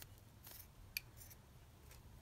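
Scissors cut across a book page in a few quiet, crisp snips, close and faint, with one sharper click near the middle and no voices.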